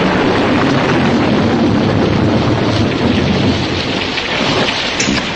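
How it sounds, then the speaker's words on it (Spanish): Thunder and rainstorm effect in a Spanish-language suspense radio drama: heavy, loud rain pours without pause while deep thunder rumbles beneath it, with no voices. "El trueno retumbaba."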